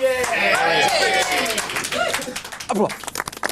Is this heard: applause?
yes